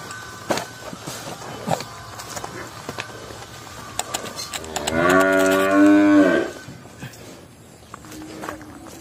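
A single Sind or Brahman breed cow at a cattle market lets out one loud, drawn-out moo lasting about a second and a half, set against faint background noise and clatter.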